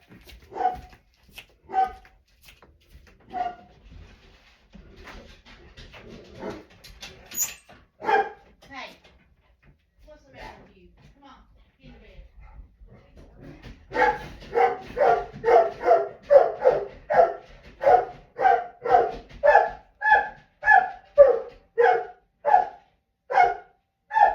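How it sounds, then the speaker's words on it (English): A dog barks at birds on the porch, with scattered single barks at first and then a rapid, steady run of loud barks close by. "He's barking at the birds on the porch."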